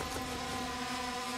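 A drone hovers overhead in a military shooter on Kamdesh Highlands, a faint steady buzzing whine with sustained tonal hum, continuous and distant-sounding.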